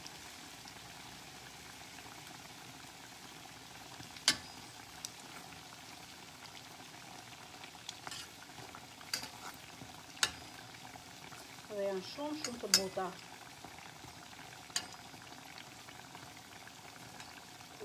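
Petulla dough fritters fry in oil with a steady, even bubbling hiss and a few sharper crackles, while someone talks over the cooking.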